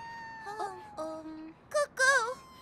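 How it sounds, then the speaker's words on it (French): Coco, a cartoon cat stuck in a tree, gives a few short, plaintive meows over a soft musical background, ending in a louder, wavering cry. "c'est mon chat Coco."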